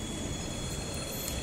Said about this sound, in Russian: Вот уже электричка почти подъезжает, это, наверное, D4M.